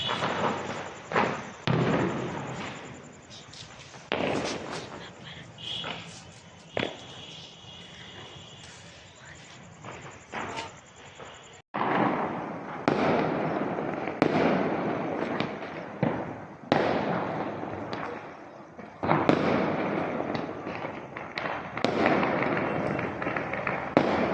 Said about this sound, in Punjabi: ਹੁਣ ਅਸੀਂ ਚਲਾਵਾਂਗੇ ਪਟਾਕੇ ਤੁਹਾਨੂੰ ਦਿਖਾਵਾਂਗੇ